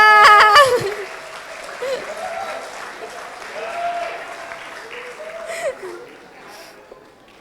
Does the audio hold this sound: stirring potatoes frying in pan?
no